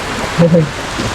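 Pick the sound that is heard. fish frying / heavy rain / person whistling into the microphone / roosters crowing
heavy rain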